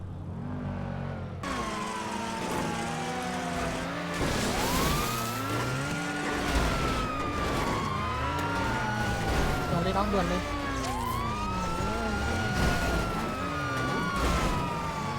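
Several police car sirens wail and overlap in a video game chase, rising and falling continuously over engine roar, with someone talking throughout.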